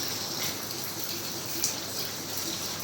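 Heavy rain pours steadily and water gushes down stairs from a rooftop in Lahore, a continuous, dense wash of splashing water with no break throughout.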